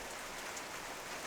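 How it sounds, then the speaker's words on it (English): Rain falls on an Australian homestead and garden, a soft, even hiss of drops on surfaces, steady and fairly quiet through the short stretch. "So it seems like the rains are back"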